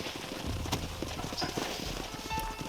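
Horse hooves clip-clopping in the Western video game Red Dead Redemption, a steady, fairly close trotting rhythm over outdoor ambience, with no speech.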